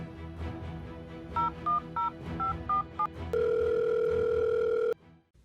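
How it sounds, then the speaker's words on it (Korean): A phone's keypad beeps out a series of short dialing tones in an uneven rhythm, then a long steady tone sounds before cutting off, with faint background noise underneath. "그래도 급하니까 전화해봐야겠다."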